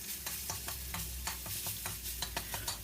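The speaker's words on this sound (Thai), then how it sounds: "ผัดพริกแกงให้หอมเลยนะครับ" Curry paste is stir-fried in oil in a pan over low-to-medium heat, a spatula scraping in quick repeated strokes over a soft, constant sizzle, close and alone.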